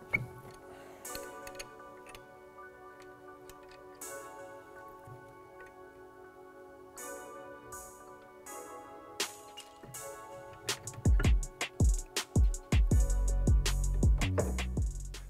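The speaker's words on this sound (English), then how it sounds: "we're gonna remove the two caliper retaining bolts" Caliper retaining bolts coming off a Ford Mustang GT brake assembly: quiet ticking ratchet clicks at first, then a fast burst of sharp, loud ratcheting clicks near the end.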